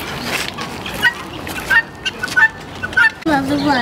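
Turkey gobbling in an enclosure at the Moscow Zoo, several bursts of rapid gobbling calls, fairly close, with background crowd noise and children's voices.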